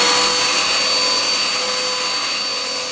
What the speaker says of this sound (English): this calls for a vacuum